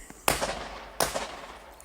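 Two firecrackers set off by neighbours burst nearby, each a sharp crack with a short noisy tail, about three-quarters of a second apart.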